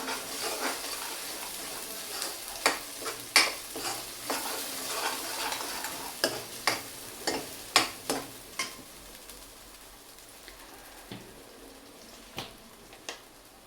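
Creamy masala for white veg kurma stirred in a pan, with repeated sharp spoon scrapes and taps against the metal over a low, steady sizzle, irregular at first and thinning out toward the end.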